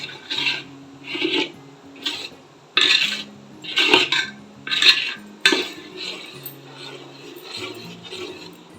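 A spoon scrapes and clinks as it stirs thick jaggery adhirasam batter in a pan. Close rasping strokes come in a steady rhythm of roughly one per second, with a few sharper knocks against the pan.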